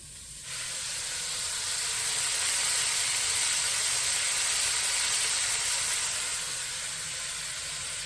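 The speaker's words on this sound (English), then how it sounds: "I'm going to put the bacon in now to get all nice and" Bacon sizzling in a preheated Dutch oven, cooked until crispy for an all-meat chili: a steady, loud frying hiss that starts abruptly and holds evenly for several seconds, close up and without talk.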